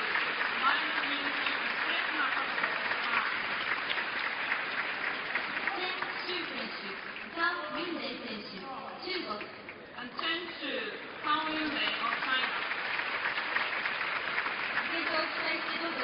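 Crowd applauding as badminton players are introduced at the 2008 Japan Open, sustained clapping throughout with a commentator talking over it in the middle.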